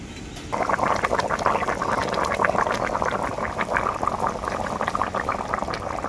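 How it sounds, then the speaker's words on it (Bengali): Bhetki fish curry gravy with mustard boiling hard in a pot, a dense, continuous bubbling and gurgling that starts abruptly and holds steady at close range, no voices. "আবারও কিছুক্ষণের মতো ঝোলটাকে আমি খুব ভালো করে ফুটিয়ে নেব"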